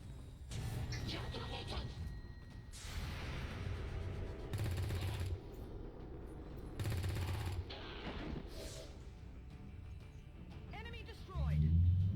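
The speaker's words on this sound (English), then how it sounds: "So I'm going to open fire on this trooper" In the game XCOM 2, repeated bursts of gunfire are aimed at a trooper, loud rattling volleys with short gaps between them and voices speaking over the shooting.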